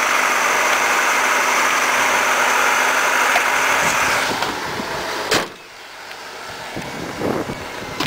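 Ford Escort being converted into a homebrew electric car, moved in a driveway: a steady broadband engine or road hum that drops away partway through, followed by a sharp thump and quieter rustling noises.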